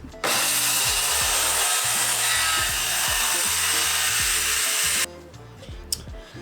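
A power saw cutting off the back side of a plywood fence during a bus conversion build, one loud continuous close-up whine and rasp through the wood for about five seconds, then stopping abruptly into quieter handling noise with no speech.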